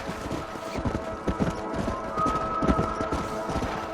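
Horses clip-clopping in the video game Red Dead Redemption, with steady overlapping hoof beats close by under a busy ambient bed, and a faint high tone midway.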